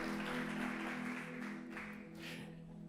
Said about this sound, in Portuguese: Vamos aplaudir mais forte aí, esses atores maravilhosos.